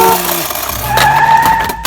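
A toy car gives off loud electronic engine and tire-skid effects with rising and falling tones, ending in a short clatter.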